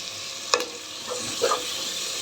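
Chopped tomatoes fry in a pan for cauliflower curry, giving a soft, quiet sizzle with a couple of brief stirring scrapes and clinks, with no talking.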